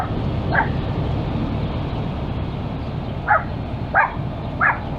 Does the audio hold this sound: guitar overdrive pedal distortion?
no